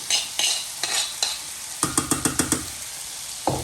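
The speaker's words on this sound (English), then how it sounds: "Give it another mix" Kimchi and tofu with marinade are stirred in a pan, giving a run of quick scraping strokes over a faint sizzle, with a few spaced stirs before and a single one after.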